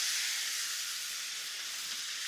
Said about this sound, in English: in this pan, I'm going to deglaze with some red wine